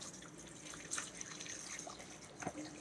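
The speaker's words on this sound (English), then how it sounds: "I'm gonna add 4 cups of water." Water poured into a pot for turkey tail mushroom tea, a soft close trickle with scattered drips and splashes, quiet and continuous with no talking.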